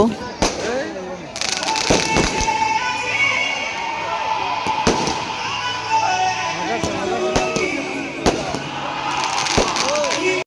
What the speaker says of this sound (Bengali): ভিতরে হামাইতে মানে তারা বম ফোড়ানি শুরু করে দিছে